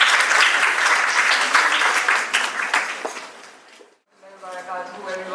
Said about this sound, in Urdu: آپ سب کی بھرپور تالیوں میں میں دعوت دینا چاہوں گی مس عائشہ, مس تحریم رانجھا کو کہ وہ آئیں